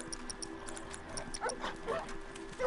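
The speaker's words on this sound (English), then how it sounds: "Can I kill those dogs?" Dogs in The Last of Us video game, faint short yelps and whimpers at a distance over a steady background hum, brief and intermittent.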